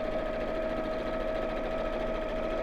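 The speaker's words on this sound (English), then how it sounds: "I'm sewing around the blue bit." Close, steady hum and rapid stitching of a sewing machine working around the blue panel of a drawstring pyjama bag, running continuously and evenly throughout without pause.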